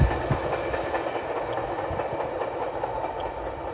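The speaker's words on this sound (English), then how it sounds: "Three locomotives, two GEVOs, and one SD70M2 locomotive." A freight train pulled by three locomotives, two GEVOs and an SD70M2, rumbles past at Pine Orchard near Mount Albert, a steady loud roar of rolling wagons with faint clickety-clack throughout.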